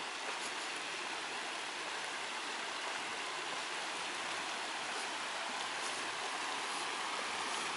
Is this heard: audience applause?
no